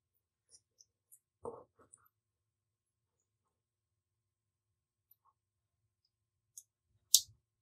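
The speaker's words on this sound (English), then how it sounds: "And there was a small click when I connected it." A small connector on a USB PCIe expansion card clicks into place while the card is installed in a computer, heard as a single soft, close click among faint scattered ticks in an otherwise quiet room.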